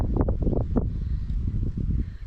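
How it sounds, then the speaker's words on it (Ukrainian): Strong gusts on a sunny day in a garden buffet the microphone with a steady low roar and rumble, continuous throughout with no voices. "На вулиці сонечко світить, але вітер дуже великий."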